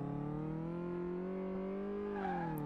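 A car engine drones steadily at a near-constant pitch on a test drive in Car Mechanic Simulator 2018, a smooth sustained hum with a slight rise toward the end and a brief squeal.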